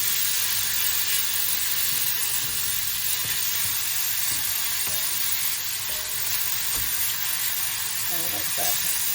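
Food for a WW2 ration-style pie browning in a hot pan, giving a loud, steady sizzle and frying hiss throughout, with faint stirring knocks underneath.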